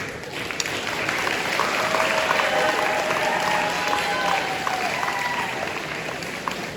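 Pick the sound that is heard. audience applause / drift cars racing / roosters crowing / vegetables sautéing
audience applause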